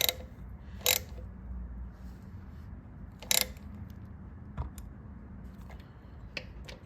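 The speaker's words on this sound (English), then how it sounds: "I'm using a 1/2-inch ratchet here on an extension" A 1/2-inch ratchet on an extension turns the oil drain bolt on a 2021 Royal Enfield Himalayan motorcycle, giving a few quiet, sharp metallic clicks spaced apart over a low steady hum.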